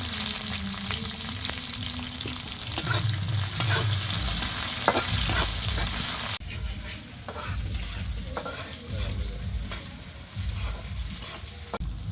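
Whole cumin, dried chili, chopped garlic and green chili frying in hot oil for a jackfruit seed dish, with a steady close sizzle and crackle, stirring scrapes, and a brief louder burst before the frying settles slightly quieter.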